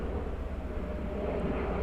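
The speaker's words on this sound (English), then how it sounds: "Here comes a jet out of" A jet engine's broad, steady roar fills the air, loud and unbroken, as a jet departing Gabreski Airport on Long Island passes overhead.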